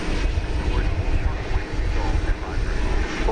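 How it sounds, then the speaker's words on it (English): An Airbus A321 airliner bound for Denver rumbles at DFW Airport, a steady, fairly loud broadband roar with heavy low-end weight that holds throughout with little change. "This is flight 2235 going to Denver, Colorado, in Airbus A321."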